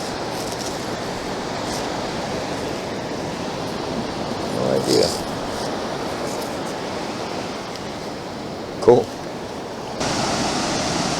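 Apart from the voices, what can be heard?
ocean waves breaking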